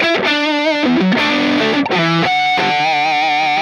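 Loud distorted electric guitar on the neck pickup through a Mesa Boogie Mark series amplifier without EQ, playing sustained chords and short riffs, with a warm, thick tone and no voices.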